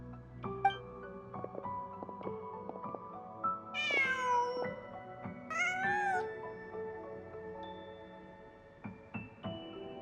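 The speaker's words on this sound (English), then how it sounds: "Just a cat." Cat meowing in the video game Genshin Impact: two clear, drawn-out meows a couple of seconds apart over steady game music with soft chimes, the calls fairly close and prominent above the backing tones.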